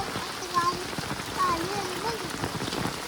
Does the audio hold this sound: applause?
no